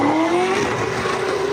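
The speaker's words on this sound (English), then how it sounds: "Engines revving, vehicles spinning, rubber burning, fireworks exploding." Cars spinning and burning rubber at a street takeover: loud, continuous tire squeal with a rising, whining engine rev over dense, roaring vehicle noise, close and sustained throughout.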